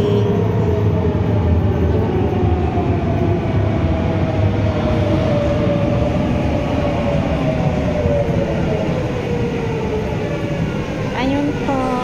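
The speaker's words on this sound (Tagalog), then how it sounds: "Ito na po, parating na po yung ating train." Yellow tour train arriving, a loud continuous rumble and rail roar close by throughout, with a faint sliding squeal near the end and people talking underneath.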